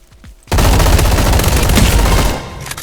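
Dense, loud burst of rapid gunfire from a Roblox combat arena game, continuous automatic shots filling about two seconds after a quiet start, then tapering off.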